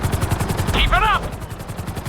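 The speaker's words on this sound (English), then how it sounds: "we'll see how well you handle the chopper" Steady thudding rotor chop of a helicopter flying in GTA 5 flight school, loud and close throughout, with a brief electronic chirp and a voice speaking over it.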